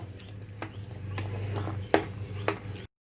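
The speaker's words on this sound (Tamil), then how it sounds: "இது நல்லா ஒரு நிமிஷம் நல்லா கிளறி விடுங்க" A spoon stirs sweet pongal with jaggery in a cooking pot: soft scraping strokes with a couple of sharper knocks against the pot rim, close up and fairly quiet, ending abruptly.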